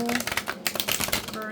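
Quick crisp riffling of cards being shuffled, a rapid flutter of light snapping taps lasting about a second, close up.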